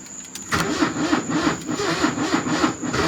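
A Porsche that has sat unused for five years cranks over with the starter, giving a rapid, even churning rhythm that begins after a short quiet lead-in and keeps going without catching, close and loud.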